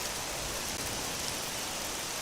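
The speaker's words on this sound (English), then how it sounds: "it's dreadful weather, all the rain and lightning" Rain in the fantasy video game Sacred 2: Fallen Angel, a steady dense hiss of falling drops during stormy weather, unbroken and without voices.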